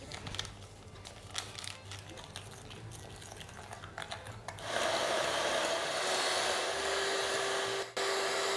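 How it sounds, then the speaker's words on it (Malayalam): An electric beater runs on high speed whipping vanilla cake batter, a steady close whirring drone starting about halfway through after quieter kitchen handling noises, then a brief dip before it resumes. "4 മിനിറ്റ് ഇലക്ട്രിക് ബീറ്ററിൽ ഹൈയിൽ വെച്ച് ബീറ്റ് ചെയ്യുക."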